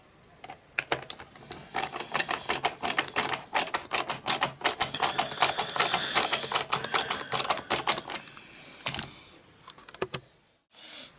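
Screws are driven back into a window switch from a Range Rover P38, heard as rapid close ratcheting clicks in dense bursts, like a ratchet screwdriver, slowing to a few isolated clicks toward the end.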